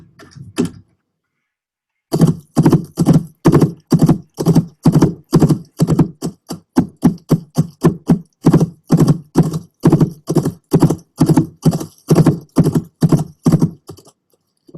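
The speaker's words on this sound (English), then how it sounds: "so I just laid down the horse footsteps" Foley horse hoof footsteps struck with hoof props, a long run of loud, close, hollow clops in a quick galloping rhythm after a short pause, alone with no voices.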